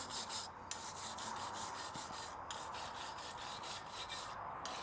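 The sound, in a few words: wire brush scraping gunk off outboard motor housing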